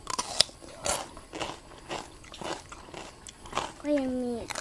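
Child chewing salt-grilled fish wrapped in vegetables, a series of close, crisp bites and crunches scattered through the moment, followed by a short burst of talking.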